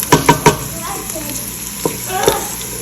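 Onions frying in a pan for chicken do pyaza give a steady sizzle, broken by a few sharp scraping stirs near the start and again later on.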